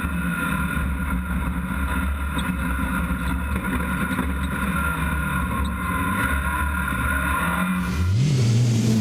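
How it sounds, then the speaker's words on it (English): Onboard a rallycross car at Pembrey as it struggles for traction, the engine drones loud and close at a steady high pitch, then pitches up sharply near the end as it revs. "You can hear just how hard the car struggles for traction."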